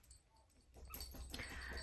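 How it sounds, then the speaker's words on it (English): A German Shepherd dog whimpers softly indoors, faint at first and then a little louder with small breathy yips near the end. "Sorry, that's my dog."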